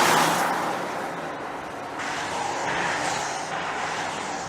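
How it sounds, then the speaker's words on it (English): A Volvo hybrid car accelerates from a standstill to 100 km/h, a steady loud road roar that swells and shifts through the run with no voices. "We're going to see how quickly the car reaches 100 kilometers per hour from a standing start."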